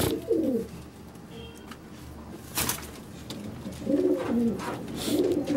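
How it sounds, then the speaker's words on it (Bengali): Pigeons in a loft coo in soft, rolling bursts near and far, with pauses between calls and light rustling and fluttering in the background. "জোড়া বাঁধা পায়রা এগুলো"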